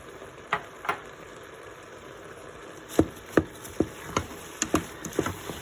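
Frozen spinach dropped into a hot pan for an Italian pasta sauce, crackling into a steady sizzle with a series of sharp pops and spits, close and alone without talk.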